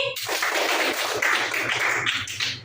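Classroom applause for a student during a teaching practice lesson, a dense burst of many hands clapping close by that runs steadily for a couple of seconds before thinning out.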